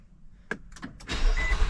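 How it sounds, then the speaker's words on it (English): A 2015 Nissan Pathfinder with 153k miles starts up: a few brief clicks and a short crank, then the engine catches and settles into a steady, loud idle close by. "Starts right up. Purrs like a kitten."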